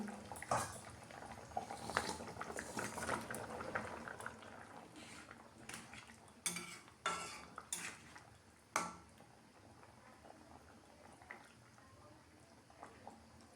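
Gravy for chana dal with paneer and potatoes bubbles in a pot, giving a faint, steady boil with scattered clinks of utensils against the pot.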